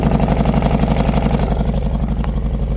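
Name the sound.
Harley-Davidson motorcycle with Bassani exhaust idling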